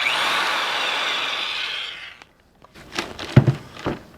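A heavy-duty electrician's drill runs in low gear with a steady, broad whirring motor hum for about two seconds, then stops, followed by clunks and rattles of handling.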